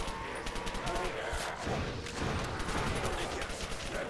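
Rapid gunfire bursts from the zombie-mode video game Far Away 3, continuous dense shooting throughout with voices talking underneath.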